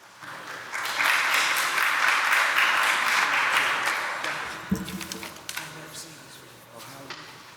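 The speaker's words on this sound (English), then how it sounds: "Keep those hands clapping for our next presenter, Mr. J.C. Price." Audience applause at a spring studio showcase, a dense burst of clapping that swells, holds for several seconds and then thins to scattered claps, with voices heard under it.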